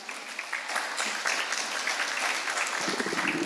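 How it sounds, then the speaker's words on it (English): Audience at a youth center parent night clapping together, a dense, steady round of applause that carries on throughout without a break. "Let's give moderator a round of applause."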